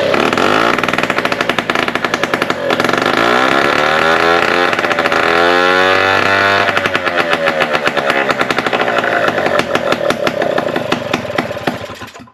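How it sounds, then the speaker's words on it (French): A small two-stroke engine from a 3800 starts up after a carburettor jet change and runs alone, loud and close, with a rapid buzzing idle that rises and falls as it is revved. "bien démarré, il semble qu'il tourne bien"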